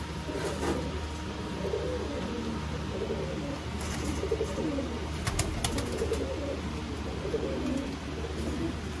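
Pigeons offered for sale coo repeatedly and fairly close over a steady low background hum, with a brief burst of clicking partway through and no speech.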